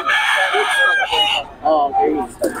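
A gamefowl rooster crows loudly and close by in a single long drawn-out call with a wavering, strained tail, nearly filling the short moment.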